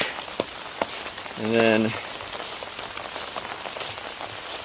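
Steady rain falls outside a house with a large fenced deck, a constant close hiss and patter throughout, with someone speaking briefly over it.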